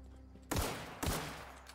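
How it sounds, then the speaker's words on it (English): Two sharp gunshots about half a second apart fired at a tree in the video game The Outer Worlds, each with a booming low-end thump and a decaying tail, loud and close with no talk. "I'm gonna shoot this tree."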